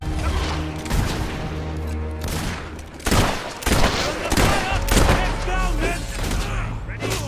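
Battle scene in Fable III with mortar and gunfire: dense, continuous volleys of shots and booming blasts, loud and sustained, with several heavier bursts standing out midway.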